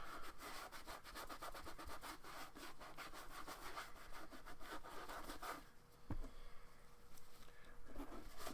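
Hand rubbing and scrubbing on a toy figure, a steady rasping back-and-forth texture for most of the stretch, pausing briefly with a soft knock before resuming, close and moderately loud.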